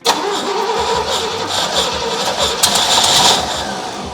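A 1967 Pontiac GTO engine fitted with a Haltech ECU cranks steadily on its first start attempt, the starter churning loudly and continuously without the engine catching.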